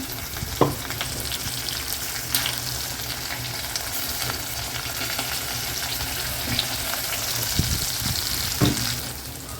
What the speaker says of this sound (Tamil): வெங்காயம் வதங்கிடுச்சு இப்போ குழம்பு ஊற்றிடலாம்